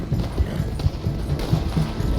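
Clip-clop of a Mustang horse's hooves in Red Dead Redemption 2, a steady rhythmic trot heard close and fairly loud throughout, with no talking.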